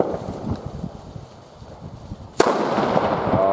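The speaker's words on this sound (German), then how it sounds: "Jetzt Dynamitböller von Bröckhoff im Werfen." A Broeckhoff Dynamite firecracker, thrown outdoors, goes off with one sudden loud bang after a stretch of quiet rustling and handling noise, followed by a lingering rough echo.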